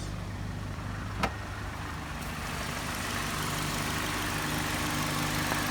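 A Honda Civic Si idles steadily with a low, even engine rumble close to the listener. One brief sharp click is heard early on, and there is no talking.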